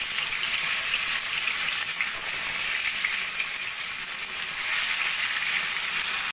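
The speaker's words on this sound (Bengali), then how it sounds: "এবার আমি মাছগুলো ভেজে নেব।" Pieces of katla fish fry in hot oil in a kadai, giving a loud, steady, close sizzle with dense crackling that holds evenly throughout, with no talking.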